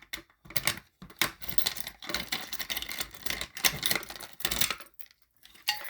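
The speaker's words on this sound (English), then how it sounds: "now we're going ahead and close the pull station" A Simplex break-glass fire alarm pull station being closed, giving a run of small close plastic and metal clicks, clacks and rattles in irregular bursts, fairly quiet with brief gaps between them.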